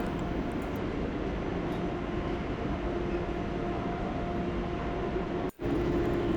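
Steady low rumble and hum of a waiting train at platform 5 of a German station, Stuttgart-bound train, filling the air, continuous and fairly loud, with a brief dropout near the end.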